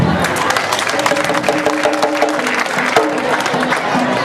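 An audience at a school inauguration in Senegal applauds with dense, sustained clapping and crowd noise, steady and fairly loud throughout.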